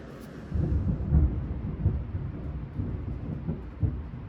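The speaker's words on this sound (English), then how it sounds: "I just love a thunderstorm." Low, rolling thunder from a thunderstorm rumbles steadily in the distance, with soft swells and fades over a quiet background.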